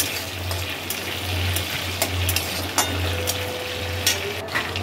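Crushed garlic and green chillies fry in mustard oil with a steady close sizzle and crackle, a few sharper pops standing out over a low constant hum.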